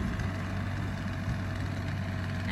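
A vehicle engine idles nearby in a garden, a steady low rumble that holds unchanged without pauses or speech.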